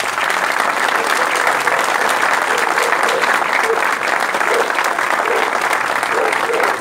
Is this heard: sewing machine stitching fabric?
no